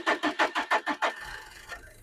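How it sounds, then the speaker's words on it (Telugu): A car engine cranks in six quick, even bursts on the starter, then catches on the single try and settles into a faint, low idle. "సింగిల్ సెల్ఫ్లో బండి స్టార్ట్ అవుతుంది"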